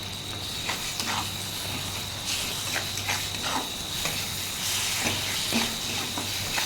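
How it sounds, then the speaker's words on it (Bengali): Onion and spice paste sautéing in oil produce a continuous close hiss, broken by repeated scraping stir strokes through the mixture. "কুড়িয়ে রাখা পেঁয়াজটা আমি দিয়ে দিলাম, দিয়ে ভালো করে মশলাটা কষিয়ে নেব"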